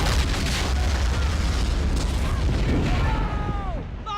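Artillery fire in the video game MOWAS 2 during a Union siege of Confederate Fort Wagner: a continuous wall of loud, rumbling booms and blasts, with faint shouting voices mixed in.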